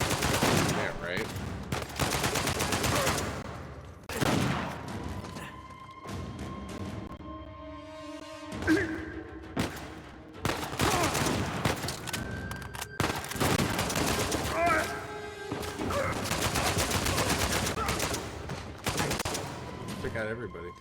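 Rapid gunfire and bursts of machine-gun fire from the Uncharted 4 video game, loud and dense bursts separated by brief pauses, with a voice talking now and then between the shots.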